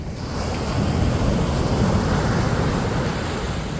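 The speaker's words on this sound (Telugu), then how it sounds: "ఇక్కడ ఒక చిన్న బీచ్ ఉందన్నమాట" Ocean surf rolls onto a small beach at Algar Seco, Portugal, a steady broad wash of waves mixed with wind buffeting the microphone, loud and continuous with no voices.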